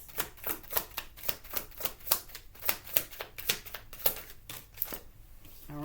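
Tarot cards are drawn and shuffled, giving a string of crisp riffling slaps and flicks in an uneven rhythm that fades toward the end.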